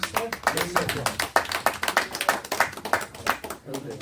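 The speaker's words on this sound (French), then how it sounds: "On peut vous applaudir." Applause from a small audience at a literary café in Paris, clapping in a moderately close, uneven rhythm with voices talking over it.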